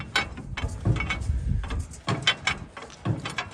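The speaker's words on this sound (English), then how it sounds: "We'll continue to hopefully crank her over with the crowbar." The seized engine of a 1933 Dodge truck is cranked over with a crowbar, giving repeated metallic clanks and grinding scrapes in irregular bursts, close and fairly quiet.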